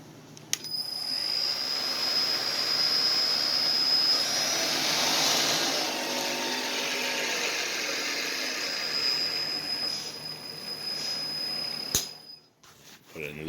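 A Millport milling machine with a 10x50-inch table runs on a Speed-Rite AC variable drive, giving a steady whine with a high tonal ring that holds for most of the time before a sharp click and a drop in level.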